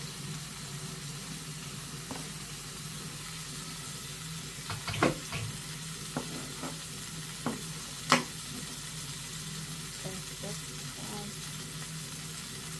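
Bacon frying in a pan gives a faint, steady sizzle with scattered soft pops and crackles, running without a break and heard alone.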